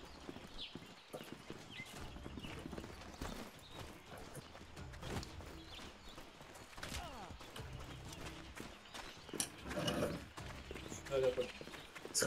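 Steady clip-clop of horse hooves trotting close by in the game Mordhau, with an occasional whinny and other game-like clatter mixed in.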